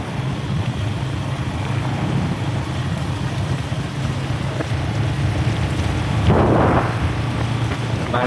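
Heavy rain pours down in Mahuladiha in a constant loud roar, with low rolling thunder underneath. A stronger surge of noise swells briefly toward the end.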